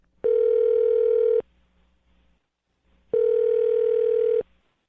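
A telephone ringback tone sounds twice, each a loud steady electronic burst lasting over a second, separated by a brief silence, as a call is placed.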